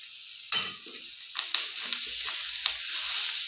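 Mashed potato filling for vada pav being stirred and mixed in a pan, soft scraping and sizzling with a sharp spoon knock early on and a few lighter taps afterwards, close and fairly quiet.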